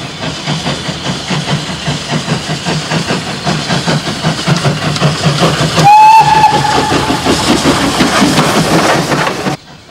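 A narrow gauge steam locomotive labours up a steep grade toward Muro de Alcoy in Spain, its rhythmic chuffing loud and steady, with a sharp whistle blast cutting in near the middle before the sound abruptly stops.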